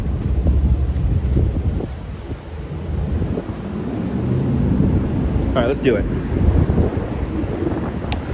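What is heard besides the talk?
wind noise on microphone outdoors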